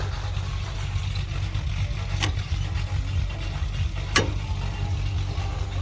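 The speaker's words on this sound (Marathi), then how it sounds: "तर ही केली आपण मोटर चालू" A farm water pump motor hums steadily at a low pitch, with two sharp clicks partway through.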